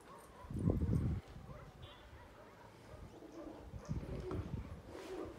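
Pigeons coo nearby in short low throaty bursts, one loud call at the start and softer ones later, with a voice speaking faintly in the background.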